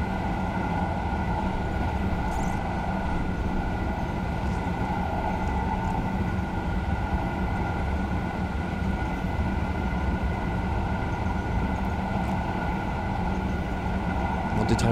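A Thalys high-speed train in Train Simulator 2020 runs along the high-speed line with a steady mechanical hum and rumble, constant and fairly loud, with no talking.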